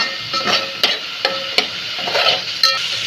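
Onion paste for veg biryani fries in hot oil with a steady sizzle, broken by several sharp clicks and knocks of a spoon stirring against the pan.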